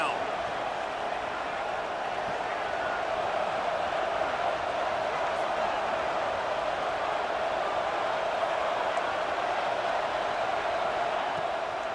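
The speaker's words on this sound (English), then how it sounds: "This Boise State crowd bringing the noise. It's deafening here on third down." A dense, steady roar of a Boise State stadium crowd on third down in College Football 26 fills the clip continuously, loud and unbroken from start to finish.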